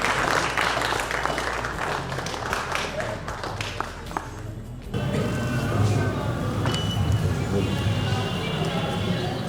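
Guests clap together at a church Christian wedding ceremony, a dense broadband patter that pauses briefly midway, then resumes louder and fuller, with voices murmuring underneath.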